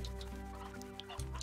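Clucking chickens in the video game Slime Rancher, a few soft, faint clucks over a steady low background hum, with no talking.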